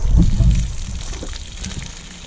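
Water pours and gushes out of a cooking pot being drained at an outdoor pallet-camp cookout of curry yardfowl, dasheen and mussels, loud and close at first, then thinning to a steadier trickle.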